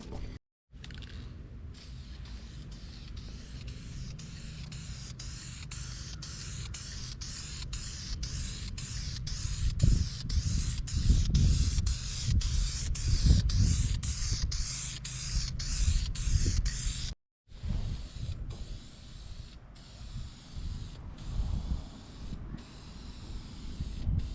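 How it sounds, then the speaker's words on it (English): Steady hissing of an aerosol spray paint can held down for long stretches, with one short break, plus faint low rumbling and handling noise underneath, while painting a Mazda Miata dashboard. "I'm going to try not to spray paint myself in the face today"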